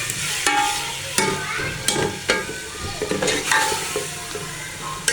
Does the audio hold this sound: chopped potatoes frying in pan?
yes